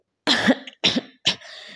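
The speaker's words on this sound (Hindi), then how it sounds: "मुझे बहुत ज़्यादा फ्लू हो रहा है, खांसी वगैरह हो रही है" Three harsh coughs from someone with flu in quick succession, close and loud, with short silent gaps between them.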